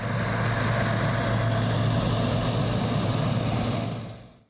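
A helicopter evacuating firefighters and villagers from a wildfire near Novo Selo, Strumica, roars in a loud, steady, close rotor-and-engine drone that holds constant and then fades quickly at the end.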